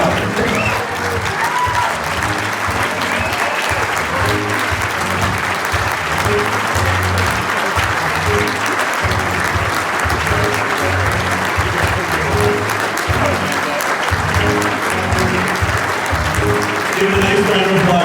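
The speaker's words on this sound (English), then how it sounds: "Give a nice round of applause, everyone." Sustained, dense applause from a large audience at a Canadian ski instructors' hall of fame induction, loud and continuous for the whole stretch with crowd murmur mixed in.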